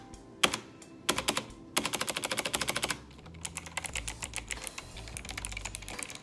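Fast typing on an Apex 5 gaming keyboard with Cherry MX Hybrid Blue switches, heard as bursts of sharp, clicky keystrokes in quick rhythmic runs, close and distinct, with no talking.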